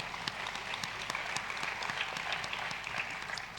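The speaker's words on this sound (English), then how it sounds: "you can give them a clap." Parents and guests at a Grade 12 farewell ceremony applaud the graduates, a continuous, fairly soft patter of many hands with a few sharper claps standing out, heard from a distance in a large hall.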